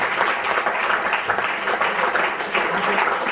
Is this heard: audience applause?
yes